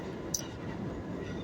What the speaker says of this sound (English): I just taking a ride here in the subway today.